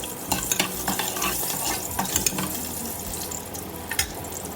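Whole spices with cracked black cardamom stirred and frying in a pot for mutton masala, a continuous crisp sizzle broken by scraping spoon strokes and light metallic clinks close by.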